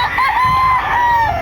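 A Gilmore gamefowl rooster gives a single loud, close crow, a drawn-out wavering call lasting over a second.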